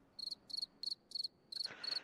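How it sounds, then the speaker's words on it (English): Crickets chirp in a steady, evenly spaced rhythm of six clear pulsing trills, high and shrill, fairly close with a quiet background. "Something about those crickets and what they mean."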